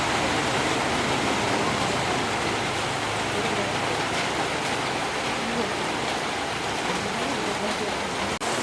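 Heavy monsoon rain pours in a Konkan village in a dense, unbroken roar that stays loud and steady from start to finish.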